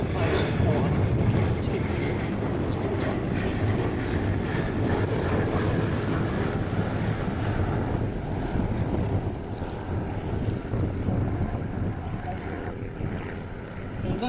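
A vintage Avro Anson twin-engine aircraft flies in at a Shuttleworth airshow, its engine drone steady and broad under wind buffeting, while a commentator talks over the public address.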